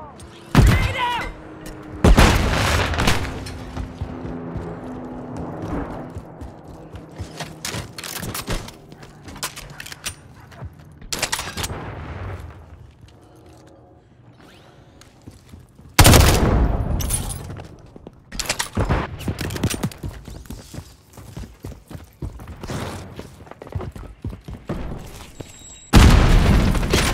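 Modern Warfare III multiplayer match on the Favela map, with heavy booming grenade blasts and bursts of gunfire recurring throughout, some loud and close, others duller, mixed with game callouts from soldiers.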